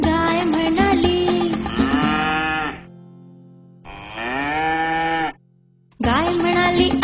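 A cartoon cow in a children's Marathi animal-tails jingle gives long, tonal moos that rise in pitch, two sustained calls separated by a short silence, set against bright backing music.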